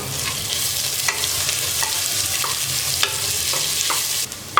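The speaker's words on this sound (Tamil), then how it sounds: "இப்போ கட் பண்ணி வச்சுருக்கிற வெங்காயத்தை போட்டு நல்லா வதக்கிக்கலாம்" Chopped onions sautéing in hot oil for green peas pulao, a loud continuous sizzle with occasional sharp clicks of a spoon against the pan as they are stirred.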